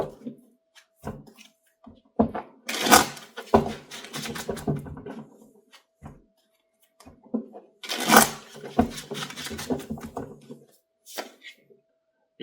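Tarot cards being shuffled by hand at a reading table, two bursts of riffling with scattered taps and card handling between them, close and moderately loud with no voices.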